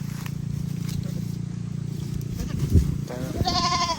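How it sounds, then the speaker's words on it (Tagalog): A goat bleats near the end over a steady low outdoor hum and some rustling on a poultry farm in Naujan, Oriental Mindoro, Philippines, its wavering cry rising clearly above the background. "first time kumakawak ng kambing"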